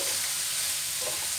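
Onion and garlic sizzling in a pan while being stirred, a steady close frying hiss with a few soft scraping touches over its short span.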